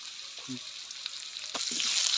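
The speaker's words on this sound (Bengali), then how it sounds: "আলুটা ভেজে নেওয়া হচ্ছে মাছ ভাজার পর" Oil sizzles and crackles steadily as potatoes fry in a pan, with faint stirring clinks and a few soft bumps.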